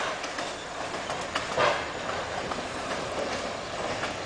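Train wagons roll along nearly century-old rails through a neighbourhood in Rio do Sul, a steady rumbling clatter of wheels with soft clicks and a brief squeal, fairly close.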